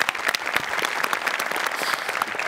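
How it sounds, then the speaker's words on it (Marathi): A studio audience at a Marathi comedy show bursts into dense, sustained clapping, loud and even for the whole stretch, with a faint murmur of voices underneath. "जोरदार टाळ्या."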